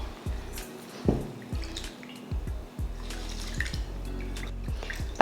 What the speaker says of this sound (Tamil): எப்பயும் போல் நம்ம அரிசி கழுவுற மாதிரி கழுவிட்டு இப்போ தண்ணியை வடிகட்டிடலாம்